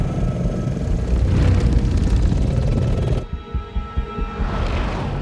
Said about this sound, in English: I loved the helicopter sounds.